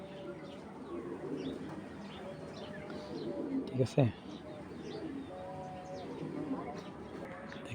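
Racing pigeons in a loft coo softly in the background, low repeated murmuring calls with a faint chirp, while someone speaks briefly nearby.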